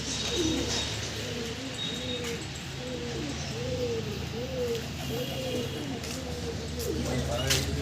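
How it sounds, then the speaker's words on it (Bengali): Pet pigeons kept in a cage, being tamed for high flying, coo in repeated low, rolling calls, a steady series of soft phrases against a background of people talking. "এই খাঁচার মধ্যে কিছু পায়রা এখানে আছে, এগুলো পোষ মানানো হচ্ছে।"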